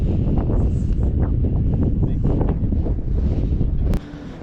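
Strong wind buffets the microphone at Mud Volcanoes National Park near Baku, a loud, constant roar with gusty rumble that drops off abruptly near the end.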